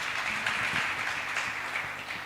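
A church congregation claps together in a sustained, even wash of applause that stays steady and moderately loud throughout, with no clear individual claps standing out.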